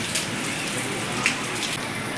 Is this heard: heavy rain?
yes